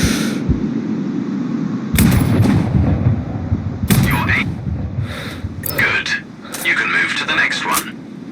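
Sharp rifle reports from a sniper rifle in the video game Sniper Ghost Warrior Contracts ring out at about two and four seconds, each followed by rumbling tails, over a steady game ambience with a voice speaking.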